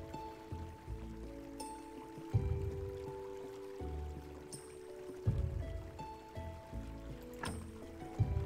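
Flowing river water in the Graveyard Keeper video game, a soft continuous stream under game music with tonal chimes and occasional brighter accents, steady and moderately quiet throughout.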